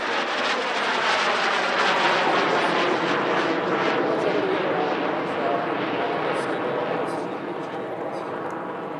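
A jet roars through an airshow display at Radom in 2023, a loud, continuous engine rush that swells and then eases slightly toward the end, with a commentator talking over it.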